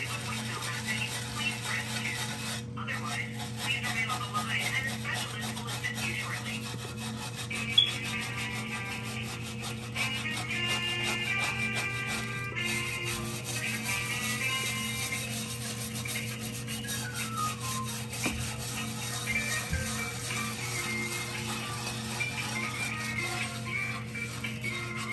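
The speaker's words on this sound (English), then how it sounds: "Refractory piece, which usually takes a little bit of scrubbing to get all of it off." Steady scrubbing and rubbing against a refractory piece from the heat exchanger of a Weil McLain Ultra 3 boiler, a continuous scraping texture at moderate level over a constant background hum, no talking.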